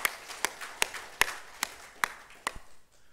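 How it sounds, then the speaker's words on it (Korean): A church congregation at a Thanksgiving Sunday service claps in unison, about eight sharp, evenly spaced claps that ring out crisply before fading into quiet. "박수로 영광 돌리겠습니다"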